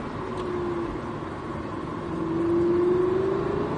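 Lamborghini Huracan accelerating on the Mettet circuit, a steady engine drone that rises in pitch and swells louder toward the end, heard from inside the car with no talk.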